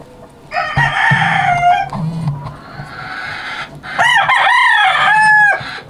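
A rooster crows twice, loud and close, with hens clucking in between and under the calls.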